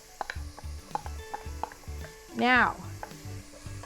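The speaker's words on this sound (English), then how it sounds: "Ooh, you can hear that sizzle," Onion sizzles quietly in a hot pan while a utensil scrapes and stirs in short rhythmic strokes, with a brief voice partway through.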